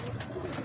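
A pigeon held up close, with wings and tail feathers not fully grown, gives soft cooing calls over a steady rustling background for under a second.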